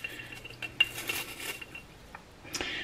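A metal spoon scoops and clinks through dried rose petals in a container, with light scraping rustles and a few sharp taps, quiet and close.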